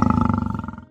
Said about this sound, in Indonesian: Siapa yang menggeram? Tentu saja singa.